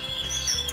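A small aviary bird gives short, high chirps over a steady hiss of background noise in a captive breeding aviary, with no talking heard.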